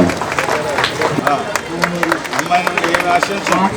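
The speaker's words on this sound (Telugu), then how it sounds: "అందరూ సార్ క్లాప్స్ కొట్టండి, చెప్పలు కొట్టండి." Wedding guests in a hall clap in scattered, close applause while voices talk over it.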